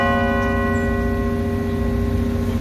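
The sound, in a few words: bell ringing at Herald Square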